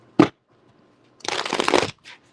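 Tarot cards being shuffled by hand: a short riffle burst, a pause, then a longer, louder riffling shuffle and a faint final flick, close and alone without talk.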